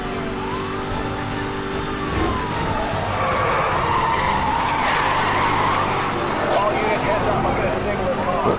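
In the video game Need for Speed Hot Pursuit, a car crashes into a police car amid loud, continuous tire skidding and squealing, with engine roar and a siren-like wail throughout.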